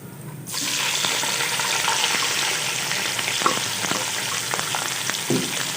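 Chicken pieces dropped into hot oil with golden-browned garlic in a pan, a sudden loud burst of sizzling that settles into a steady close frying hiss with occasional stirring clinks.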